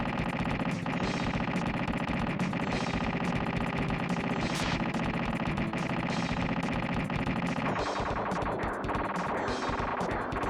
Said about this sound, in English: you could hear how, like, far apart the explosion noises were until I, like, stopped shooting